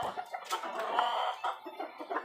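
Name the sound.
chickens clucking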